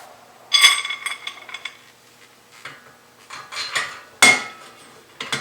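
Long bolts sliding through the metal parts of a Chicago Electric adjustable welding table, giving several sharp metallic clinks and scrapes in irregular bursts, close by with quiet gaps between.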